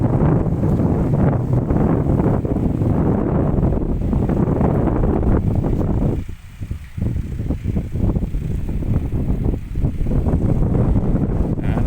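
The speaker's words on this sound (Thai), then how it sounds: "ลมแรงครับ ลมแรง วันนี้ลมแรง" Strong wind roars across an open sugarcane field in Suphan Buri, buffeting the microphone with loud, continuous rumbling gusts that ease slightly for a moment before surging again.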